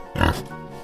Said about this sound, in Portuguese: Porco.